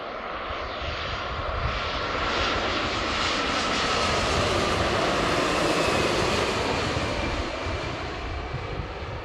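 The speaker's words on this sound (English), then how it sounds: "flying heavy Boeing 787, a mile and a half final" Alaska Airlines heavy Boeing 787 jet on final approach at Seattle, a loud, steady engine roar with a broad rushing whine that swells slightly mid-pass, heard alone without talk.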